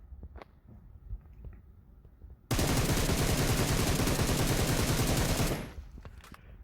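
A video-game gun fitted with a compensator fires one long, rapid automatic burst of about three seconds. The shots are loud, close and evenly spaced, and the burst cuts off sharply into quiet.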